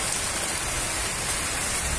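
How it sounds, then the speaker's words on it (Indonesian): Heavy rain pours down steadily, a dense, even hiss of drops on surfaces with no pauses and no voices. "lama dia kan semangat walaupun hujan. Hujan terus."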